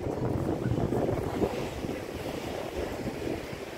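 Sea waves wash along New Brighton beach in New Zealand, a steady close rush of surf mixed with gusty wind buffeting the microphone.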